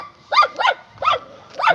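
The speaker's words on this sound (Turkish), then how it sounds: "Kendini çoban köpeği sanıyor." A tiny puppy, acting like a sheepdog while crossing a field, gives four quick, close, high-pitched yapping barks in an uneven rhythm.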